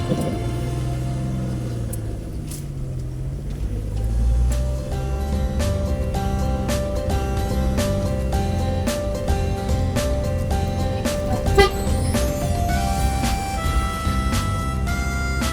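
An off-road car engine laboring up a steep hill track in the Pucak Maros highlands, a steady low rumble with rising revs and sharp clicks and knocks throughout, close and continuous.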